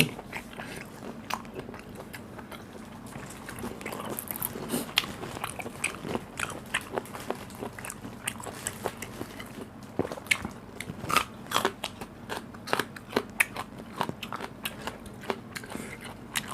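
Close-up crunchy chewing of blanched squid and shrimp: repeated sharp crackling bites and crunches, irregular and steady over a quiet background hum.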